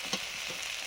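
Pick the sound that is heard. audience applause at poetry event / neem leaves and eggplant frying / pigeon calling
neem leaves and eggplant frying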